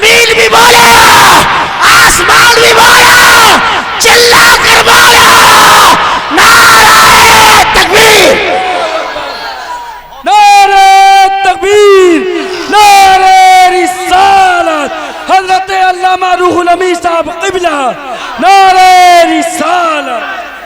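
Large crowd at an Islamic religious speech gathering shouting loudly in unison, several long roaring calls in a rhythmic call-and-response pattern, close and loud, with the speaker's amplified voice in between.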